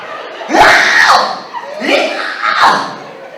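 A comedian on stage imitates an eccentric shuffling pastor screaming, letting out three loud, strained vocal yells in a row, each rising and falling, with no other talk.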